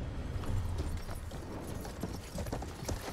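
Horse hooves in the Battlefield 1 campaign clatter in a steady clip-clop rhythm at close range, dense and continuous over a low rumble with no talking.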